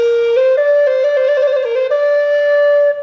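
A recorder plays a sustained, bright melody ornamented with rapid trills, a clear solo line heard up close and alone with no talking.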